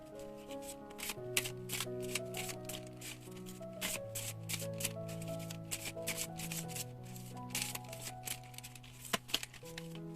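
Tarot cards drawn from a deck, a series of quick, light card snaps and shuffling flicks in an uneven rhythm, heard close and fairly quiet over soft background music.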